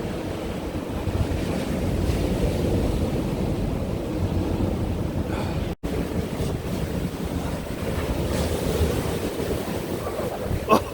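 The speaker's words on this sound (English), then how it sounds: "The waves are absolutely pounding in." Stormy surf pounding onto a UK beach where someone is fishing with rods as the tide comes in, a loud continuous roar of breaking waves with wind buffeting, a brief dropout midway; no speech.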